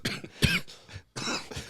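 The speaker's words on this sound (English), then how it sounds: "has to have a coughing fit" A man coughs in a short series of harsh, close bursts with brief gaps between them, like a fit of coughing during a podcast recording.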